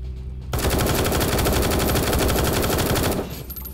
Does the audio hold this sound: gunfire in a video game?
yes